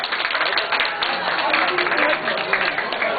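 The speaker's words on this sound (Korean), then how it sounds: "박수 부탁드리겠습니다." Guests at a Korean first birthday party in 2003 clap and applaud steadily, a dense, fairly loud patter filling the room with voices mixed in.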